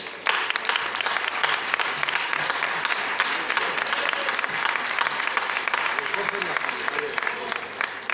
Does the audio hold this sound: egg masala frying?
no